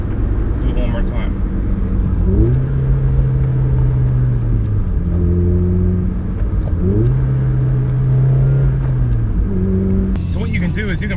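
A car engine is blipped up to around 4,000 RPM during heel-toe rev-matched downshifts, rising sharply then settling at a steady drone twice over a constant loud road rumble, with someone talking throughout.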